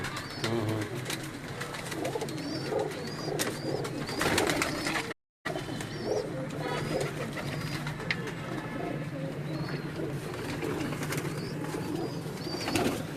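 Neel Dumba pigeons, a Faisalabad loft breed, coo steadily and close by, their soft repeated calls layered over a constant background with a brief dropout partway through.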